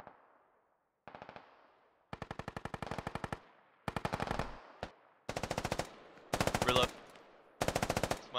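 In a video game, a heavy machine gun fires in several separate bursts that grow longer, each a rapid rattle of sharp shots with short silences between.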